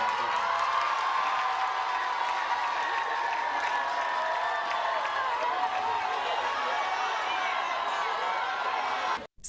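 A large crowd at a graduation convocation for 265 graduating students cheers and applauds in a steady, dense roar that fills the whole stretch before cutting off abruptly at the end.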